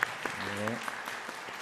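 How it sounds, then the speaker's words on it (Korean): Church congregation at a Sunday worship service clapping to welcome newcomers, a short burst of applause with a voice speaking over it. "이용희 성도님, 임송희 성도님 일어나시면 박수로 환영하겠습니다"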